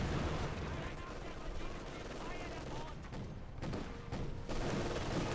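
Mortar blasts and machine gun fire rattle through a Company of Heroes 2 battle, dense and continuous with scattered heavier booms from the artillery exchange.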